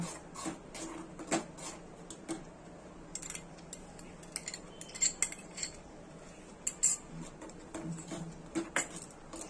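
A spoon stirs mango syrup made from raw mango into a tricolour pudding mixture in a bowl, giving quick, irregular light clinks and scrapes throughout with no talking.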